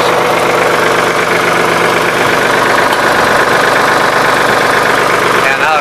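A 1983 Ford 3910 tractor engine runs at a steady idle, a continuous loud, rough diesel drone with a knocking pulse, heard close throughout.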